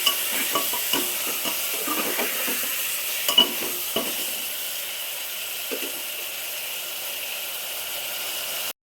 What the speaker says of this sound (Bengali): বেশ চিকেনটা বেশ খানিকক্ষণ একটু ভেজে নেবো, বেশ লাল লাল করে।